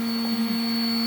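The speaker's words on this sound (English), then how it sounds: "once you have the vacuum pump operating" A vacuum pump runs for a woodturning vacuum chuck, a steady loud electric drone with a constant hum and high whine, unchanging throughout and heard alone.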